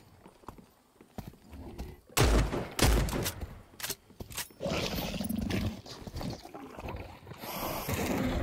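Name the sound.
shotgun fire in Cycle Frontier video game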